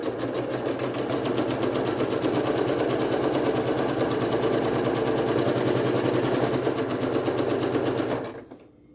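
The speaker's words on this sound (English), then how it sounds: "now I'm going to come over the sewing machine and I'm going to do very carefully a 1/4 inch" A sewing machine runs a quarter-inch seam in one steady, loud, rapid stitching burst lasting several seconds, then stops abruptly.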